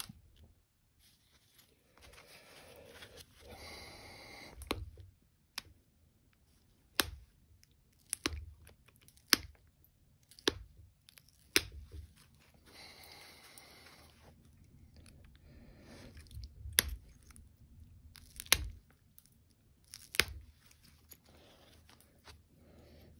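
White glass being flintknapped into a knife blade, with flakes pressed off against a pad: a series of sharp, close clicks and snaps at irregular intervals over a quiet background, with no talking.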